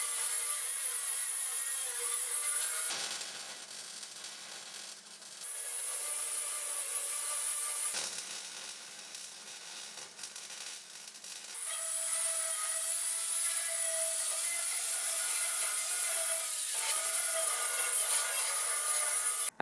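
Angle grinder working metal on a cheap secondhand parts washer during a repair, a loud continuous high whine that drops to a rougher, lower tone in two spells before returning to full steady grinding.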